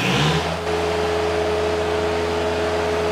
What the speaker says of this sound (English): Full throttle now.